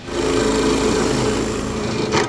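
A power drill runs steadily while boring out a broken part of a wooden hall tree during repair, a loud, continuous whirring hum close by that ends with a brief higher burst, no voices.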